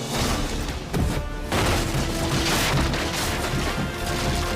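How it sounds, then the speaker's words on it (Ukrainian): Heavy crashes and booms from an anime demon's thrown balls smashing through everything like cannon shells, loud and dense, with impacts piling on one another in a continuous chaotic barrage. "Одна розкидається м'ячами, що немов гарматні снаряди руйнують все на своєму шляху."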